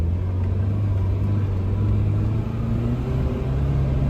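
Steady low engine drone and rumble from a Mitsubishi Pajero Mini kei truck crawling up a rock hill on the Hell's Revenge trail, close and continuous with slight rises in pitch, no talking.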